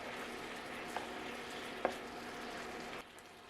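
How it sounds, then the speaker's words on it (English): Ssamjang sauce simmering lightly in a pan makes a soft, steady sizzle with a couple of faint clinks, then drops to a quieter bubbling near the end. "simmer the sauce lightly before combining it with eggplant"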